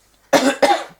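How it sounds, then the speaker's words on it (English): Two quick, loud coughs in close succession from a nearby person, each a harsh chesty burst, with silence before and after. "get that cough out"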